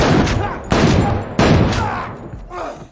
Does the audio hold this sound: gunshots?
yes